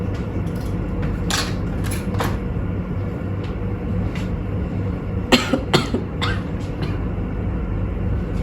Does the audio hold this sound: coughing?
yes